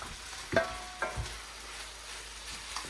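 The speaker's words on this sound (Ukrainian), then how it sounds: "І продовжуємо смажити." Mushroom-filled pastries sizzle steadily in a pan, with a few sharp clinks and scrapes of stirring over the frying hiss.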